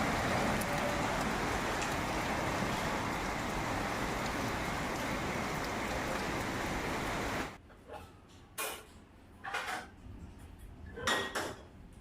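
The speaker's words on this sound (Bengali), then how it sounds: "আরে প্রচণ্ড জোরে বৃষ্টি হচ্ছে আওয়াজ পাচ্ছেন কি" Heavy rain pours steadily and loudly outside a balcony door in Kolkata at night, a dense wash of noise that cuts off abruptly partway through, leaving a quiet room with a few faint clinks.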